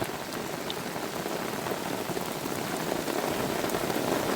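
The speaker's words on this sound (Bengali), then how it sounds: "মুষলধারায় বৃষ্টি হচ্ছে" Heavy rain pours steadily beside the Garal river during a storm, a dense, loud, unbroken hiss of drops on water and surfaces lasting the whole time, with no voices.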